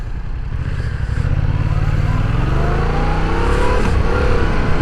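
A loud motorcycle engine roars and revs up steadily during a wheelie, rising in pitch as it accelerates, close and continuous.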